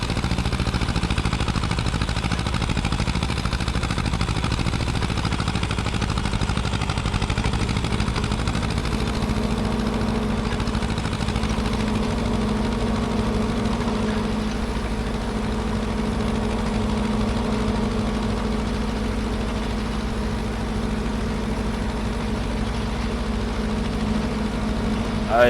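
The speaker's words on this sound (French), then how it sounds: "Ce petit tracteur là les amis, je l'adore." A small tractor idles in Farming Simulator 25 with a steady, even mid-to-low engine rumble that holds constant throughout, and no other sounds stand out.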